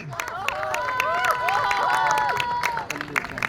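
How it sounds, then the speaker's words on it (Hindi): Crowd at an open mic event welcoming Yuvraj Singh with clapping, bright whistles and whooping calls rising over it, loud and close for a few seconds before easing off. "तो एक बार जोरदार तालियों से स्वागत कीजिएगा युवराज सिंह"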